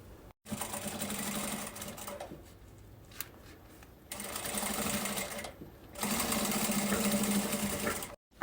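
A sewing machine runs in three steady bursts with short pauses between, stitching a strap on a children's 3D backpack, its close, even motor whir and needle chatter filling the room.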